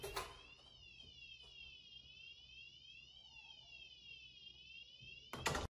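A siren sounds continuously from a wireless PIR motion sensor alarm system built around an STM32 board with LoRa, its tone sweeping steadily up and down for several seconds, loud and close, before cutting off with a brief burst.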